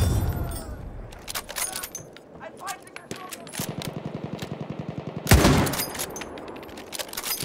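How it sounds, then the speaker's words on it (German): Enemy machine gun fire in the Battlefield 1 video game, a steady rapid rattle of shots around the middle of the clip. A louder blast follows it, with scattered clatter of other battlefield noise throughout. "Feindliches MG!"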